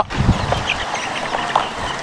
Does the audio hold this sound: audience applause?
no